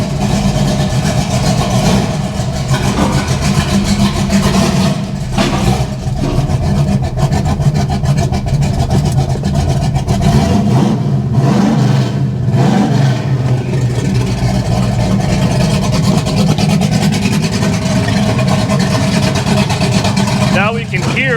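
A hot rod's engine runs loud and close as it idles and warms up outdoors, a continuous rough rumble with some rise and fall in revs, and a person talks over it.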